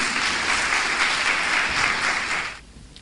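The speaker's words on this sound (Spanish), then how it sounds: "Un aplauso, por favor." Loud audience applause at a conference session welcomes a speaker, a dense sustained burst of clapping that fades out abruptly near the end.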